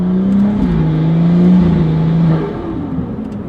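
Turbocharged BMW F30 running about 15 psi of low boost, its engine droning loud and close as it accelerates steadily, the pitch holding then dropping as it eases off.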